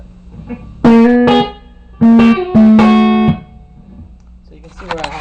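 Electric guitar played through an 18-watt amp with a homemade reverb tank turned up, several loud sustained chords that ring with a reverb tail, separated by quieter gaps with faint notes at the end.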